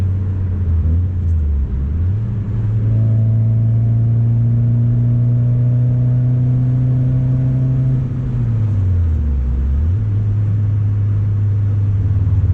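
A Ford ST car engine hums steadily, then climbs to higher revs and holds a loud, droning tone before dropping back and rising again, a continuous close rumble with no voices.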